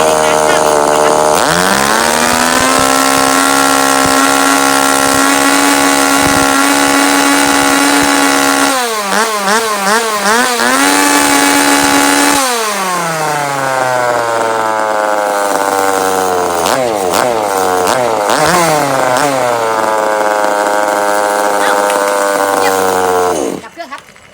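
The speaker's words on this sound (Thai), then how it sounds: "ติดเครื่องแล้วฟังเสียงรอบไปลยค่ะห้าวิัอย่างแรงนะครับ ติดเครื่องครับ" A used Japanese Tanaka chainsaw starts up and revs hard, its two-stroke engine holding a loud steady whine, then rising and falling through several sharp throttle blips before settling again, close and dominant throughout.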